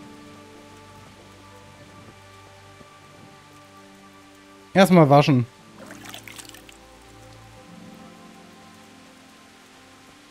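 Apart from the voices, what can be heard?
rain in video game Kingdom Come: Deliverance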